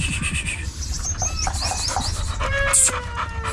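A Gultair breed dog pants in quick, close, breathy bursts while birds chirp faintly in the background.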